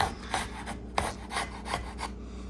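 Cheap chisel shaving the wooden back of an acoustic guitar during a build, a series of quiet, close scraping strokes in an uneven rhythm.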